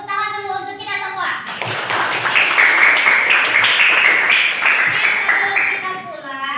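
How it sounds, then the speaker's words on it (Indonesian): A classroom of students clapping their hands together, a dense burst of applause rising after a teacher's voice and continuing steadily for several seconds before fading as she speaks again. "Tepuk tangan dulu untuk kita semua."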